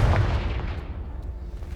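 A Confringo spell explosion in Hogwarts Legacy, hitting a pile of debris blocking a stairwell: one loud, deep boom at the start that fades into a rumbling decay.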